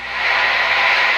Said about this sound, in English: it's white noise, but that sound, and it is responding to the volume control